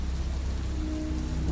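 Steady, dense rain pours down in a constant close hiss with a low rumble underneath, continuous and even throughout, no voices.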